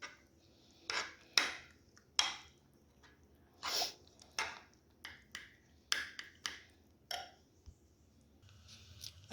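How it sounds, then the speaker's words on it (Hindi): Onion, spices and yogurt stirred together in a bowl, heard as a string of sharp, wet squelching clicks at an irregular pace, close up with quiet pauses between strokes. "इसे अच्छी तरह मिक्स कर लेंगे, प्याज को तमाम मसालों के साथ बहुत ही अच्छी तरह जो है वो मिक्स कर लेंगे"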